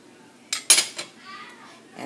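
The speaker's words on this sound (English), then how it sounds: "Put the lid on it." A metal lid is set down on a pot of Haitian bouillon with beef and crab, giving two or three sharp clanks close by with a faint rattle after them.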